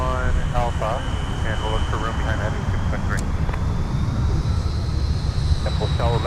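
An airliner at Minneapolis–St. Paul airport produces a steady, broad jet roar that holds evenly throughout, with radio air-traffic chatter running over it.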